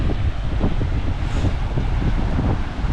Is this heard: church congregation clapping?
no